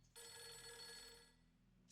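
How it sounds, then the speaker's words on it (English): A telephone rings in the video game Fatal Frame III with a steady electronic trill for about two seconds, fairly clear and close, with no voices. "The telephone is ringing for me."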